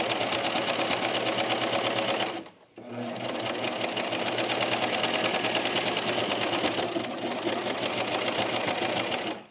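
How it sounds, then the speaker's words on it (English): A sewing machine top stitches the neckline of a knit top, running in a fast, steady, close mechanical whir with one brief pause partway through before resuming, while a person talks over it. "So I'm catching the seam that I sew the neckline on in this top stitching."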